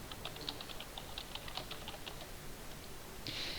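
A search word typed on a computer keyboard: a steady quick series of light key clicks over a soft background hiss, ending with a slightly louder keystroke.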